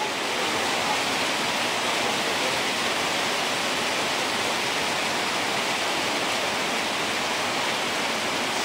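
Rainwater leaks through a damaged roof during heavy rain, making a steady, dense rushing hiss with no separate drips standing out and no let-up.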